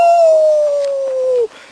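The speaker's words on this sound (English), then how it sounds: "This is the rage of dogs." A dog gives one long, loud howl that slides slowly downward in pitch and breaks off abruptly, leaving a brief quiet tail.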